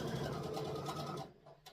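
A sewing machine stitches a fabric bowl cover, its close, steady rapid whirr running continuously before stopping abruptly near the end, with no voices.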